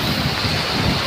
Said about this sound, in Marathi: खूप जोरात पाऊस येतोय मित्रांनो